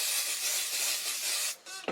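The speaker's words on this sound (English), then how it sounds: "I'm completely out of my favorite spray." A nearly empty spray bottle of hair product hisses in a long continuous burst, then sputters and cuts out into short uneven spurts, loud and close with no talking.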